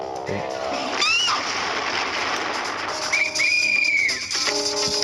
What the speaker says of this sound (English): I like the police whistle there